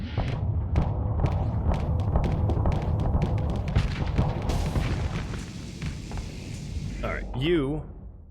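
Hammerhead ship in the space game Starsector burst-firing its weapons, a rapid series of booming thuds and impacts in quick succession, with a voice talking over the end.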